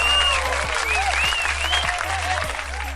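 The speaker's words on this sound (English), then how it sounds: "Hand clap to Ondu Finance." An applause sound effect plays under a crypto market commentary, a short burst of crowd clapping mixed with whistle-like tones and a low electronic hum, filling about three seconds.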